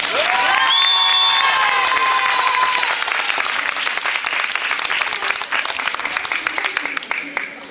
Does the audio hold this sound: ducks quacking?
no